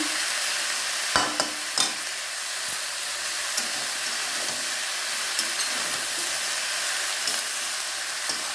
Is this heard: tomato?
yes